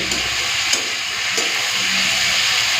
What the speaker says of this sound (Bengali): আগে আলুটা লাল করে ভেজে নিই